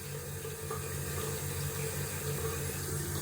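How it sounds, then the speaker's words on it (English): Water runs steadily from a bathroom tap as lather is rinsed off hands during a wet shave, a continuous close hiss with a low hum beneath it and no talking. "Just need to rinse my hands."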